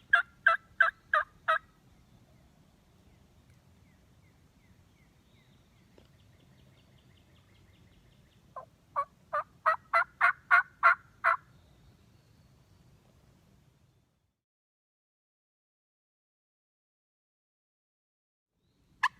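Wild turkeys gobble in Upper Alabama woods: a quick burst of four gobbles, then a longer run of about eight after a pause, all fairly distant over a low outdoor rumble, with one last gobble near the end.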